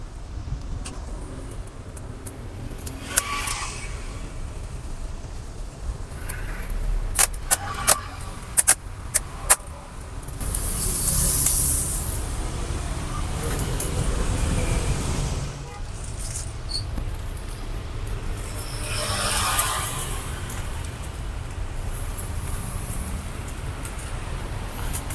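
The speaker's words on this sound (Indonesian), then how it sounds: "Sekarang kita lepas keyboardnya." Keyboard being removed from an HP laptop during a repair, with scattered sharp plastic clicks and rattles, then longer scraping and handling noises, fairly close.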